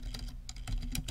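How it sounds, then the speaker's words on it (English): Keys clatter on a computer keyboard in quick, uneven bursts of clicks, close and fairly loud, with no voice over them. "On the right-hand side, I'm going to be typing in the strategy."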